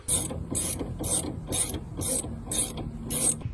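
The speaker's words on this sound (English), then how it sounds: "These can be removed with a socket and an extension since there's not a lot of working room here." Socket wrench with an extension ratcheting out T25 screws inside the door of a third-generation Toyota Tacoma Access Cab, seven evenly spaced bursts of rapid clicking, close and loud with no talk.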